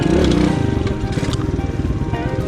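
A motorcycle engine revs with the clutch in for a beginner wheelie, a loud, close rumble that rises in pitch and then settles into a rapid pulsing idle.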